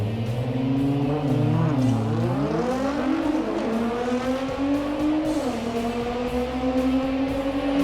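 A 1970 AMC Gremlin launches down a drag strip, its engine note climbing loudly through the gears in a sustained, rising roar with a brief dip between shifts and a crowd-like background.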